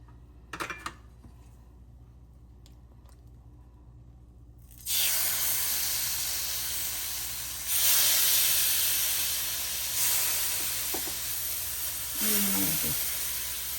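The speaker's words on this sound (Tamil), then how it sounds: "நம்ம இப்போ மீன் வறுக்கலாம்" Vavval (pomfret) fish frying in hot oil in a Tamil home kitchen, a steady broadband hiss starting abruptly after a few quiet seconds and swelling in waves, with brief faint voices near the start.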